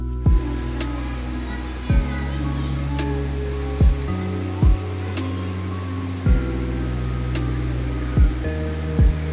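A river flows right beside a riverside villa near a bridge, a steady loud rush of water throughout, with a few short sharp knocks standing out over the continuous wash.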